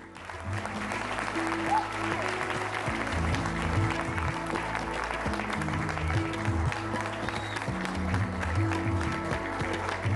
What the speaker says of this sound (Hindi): तालियों की गड़गड़ाहट के साथ स्वागत कीजिए बेहद खूबसूरत और उतनी ही टैलेंटेड रकुलप्रीत सिंह का